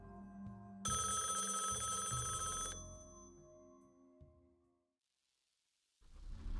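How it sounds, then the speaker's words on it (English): A telephone rings inside an empty, abandoned house, a bright repeating trill standing alone over a low rumble, then it cuts off and leaves a near-silent stretch before a soft noise returns. "The phone keeps ringing in a house where no one lives anymore"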